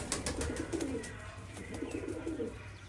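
A flock of male and female pigeons coos close by in low, throaty bursts that rise and fade twice, with faint chirps and rustling and almost no talk.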